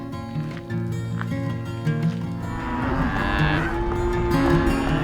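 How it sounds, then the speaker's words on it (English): Recently weaned range cattle on a hillside moo loudly and repeatedly, several long overlapping calls at close to middle distance with no talk. "Cows are really loud because the rancher just weaned the babies off of them"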